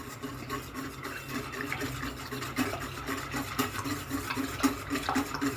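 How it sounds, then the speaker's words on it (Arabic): Custard mixture with semolina-cake crumbs being stirred in a pot on a stovetop, a steady close scraping and swishing that runs continuously without pause, with no voices present. "هنقلب كله"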